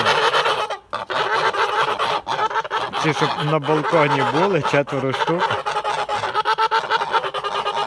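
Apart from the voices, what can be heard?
Kholmogory geese honking and cackling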